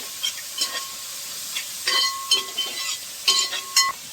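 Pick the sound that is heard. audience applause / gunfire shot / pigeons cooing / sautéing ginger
sautéing ginger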